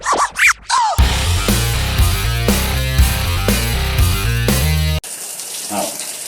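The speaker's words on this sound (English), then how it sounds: "Oh, I'm just showering here." A home shower runs loudly as a steady, rushing hiss of water spray that continues throughout, with a brief voice at the very start.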